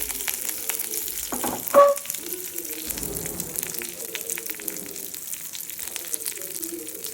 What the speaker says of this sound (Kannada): ತುಪ್ಪ ಹಾಕಿ ಒಗ್ಗರಣೆ ಮಾಡ್ಕೊಳ್ಳೋಣ